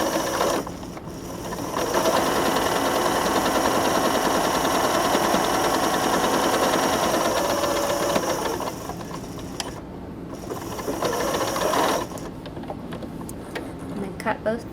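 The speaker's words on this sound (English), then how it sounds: "I'm going to sew the first seam at 1/4 inch." A sewing machine runs a quarter-inch seam for a French seam, its fast mechanical stitching whirring steadily for several seconds, pausing briefly, then starting again, close and clear.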